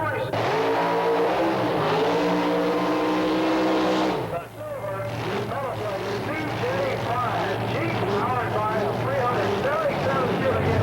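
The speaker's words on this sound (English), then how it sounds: "Harold Hines in the 27T Roadster, powered also by a big block Chevrolet" A 27T Roadster dragster powered by a big block Chevrolet engine roars loudly and continuously at a drag race, the engine note shifting partway through, with a commentator talking over it.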